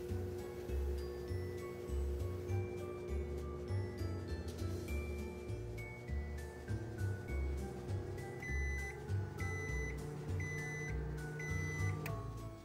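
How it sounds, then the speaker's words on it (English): A microwave oven boiling water hums steadily with a low pulsing drone, plus a few faint clicks and rattles over its running. "My microwave boils water in 3 minutes."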